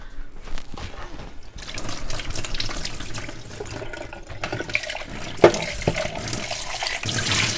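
A kitchen tap runs to wet hands while keto bread dough is shaped into a loaf. The water hisses and splashes steadily under the faucet for several seconds, with small drips and a sharp clink near the end.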